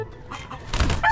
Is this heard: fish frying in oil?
no